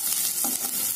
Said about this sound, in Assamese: খুব ধুনীয়াকৈ পিঁয়াজখিনি ৰঙচুৱাকৈ ভাজিম।